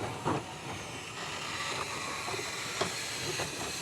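A steady broadband hiss of steam from a narrow gauge steam locomotive fills the scene, with a few brief sharper bursts of venting standing out over the continuous rush.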